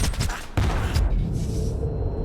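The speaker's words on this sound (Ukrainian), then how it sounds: "перестаньте стріляти, курва" Gunfire in S.T.A.L.K.E.R. 2 crackles in a quick volley of loud, dense shots, then trails off into a lingering rumbling echo.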